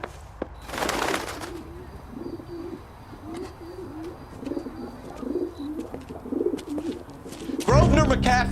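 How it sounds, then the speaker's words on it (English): Pigeons coo steadily from a rooftop coop in the video game LA Noire, a run of repeated throaty coos at moderate level, opened by a brief burst of noise and ended by a louder rustle or voice. "He has a pigeon coop up on the roof."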